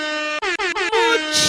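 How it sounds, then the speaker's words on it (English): A loud air horn blares in a rapid series of short stuttering blasts, then one longer sustained honk ending in a burst of noise. "Here are your hip hop air horns."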